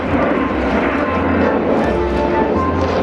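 Sukhoi Superjet 100 jet airliner engines at the Le Bourget air show in 2009 give a steady, fairly loud broadband roar that holds evenly throughout with no clear breaks.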